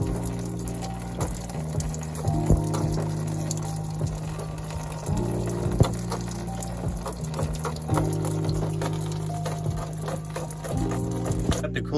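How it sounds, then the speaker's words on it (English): Coolant drains from a BMW E46 during a turbo conversion, splashing steadily into a pan below with a continuous, near, gurgling trickle that stays even throughout. "it's dropping straight down into the pan"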